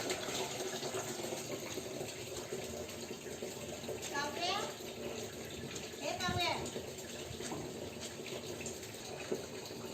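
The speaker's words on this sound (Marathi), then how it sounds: "हा पाईप मी काढलेला आहे. आता हा ड्रम भरेल." Water runs from a pipe into a drum at home, a steady gushing splash throughout with a few clattering knocks, while voices talk faintly in the background.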